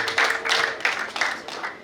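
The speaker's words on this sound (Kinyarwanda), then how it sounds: "Imana yamuturemeye, muha amashyi." Guests at a Rwandan betrothal and wedding ceremony clap in a quick, regular rhythm of close, crisp hand claps in short repeated bursts.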